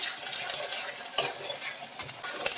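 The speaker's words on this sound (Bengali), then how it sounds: "পেঁয়াজ বাটাটা হালকা করে ভেজে নেব" Onion paste frying in a pan with dry red chillies, whole garam masala and cumin, a soft close sizzle with light stirring and a couple of sharper utensil knocks, no voices.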